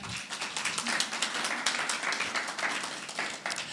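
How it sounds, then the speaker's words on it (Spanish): An audience applauds Ana at a live talk, a dense, steady burst of many hands clapping together that carries evenly for several seconds without a pause. "Un aplauso aquí para Ana"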